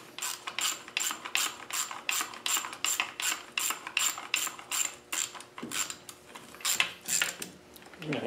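A ratchet snugs the bolts on a Land Rover 300Tdi LT77 gearbox with rapid repeated clicking strokes in a steady rhythm that pauses briefly partway through, close up and with no talking.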